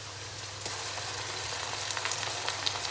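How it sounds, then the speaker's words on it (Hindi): Ginger, garlic and green chili paste frying with onions in a pan, giving a steady, close sizzle with small pops throughout and no talking. "कुछ अब मैं प्याज़ों के साथ इसको फ्राई करूँगी"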